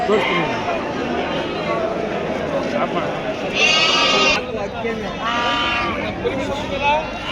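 Bandur cross sheep on a farm in Mandya bleat repeatedly, a couple of clear drawn-out calls standing out over steady crowd chatter and voices nearby.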